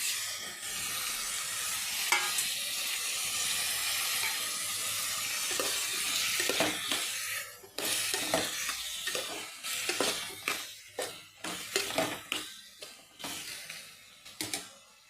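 Onions and potatoes fry in a hot pan with a steady, loud sizzle, then a run of rapid scraping stirs and clanks breaks in, the hiss easing as the stirring grows choppy and close.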